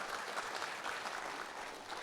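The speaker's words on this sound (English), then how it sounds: "Can we have a final just round of applause for the talk?" A conference audience claps after a talk, a dense, even patter of applause at a distance, fairly faint and sustained for a couple of seconds without speech over it.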